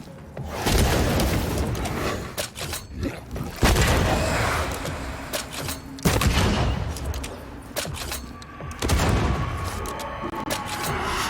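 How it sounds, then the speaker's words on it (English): Repeated gunfire bursts from a corpse enemy in the video game Banishers: Ghosts of New Eden, loud and close, coming in several clustered volleys with short gaps, set over a dense game soundscape with no talk. "That corpse is gonna shoot."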